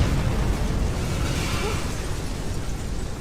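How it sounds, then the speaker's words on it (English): A big explosion in the RoboCop video game, a loud, sustained rumbling blast with crackling debris filling the whole clip. "Big explosion over here!"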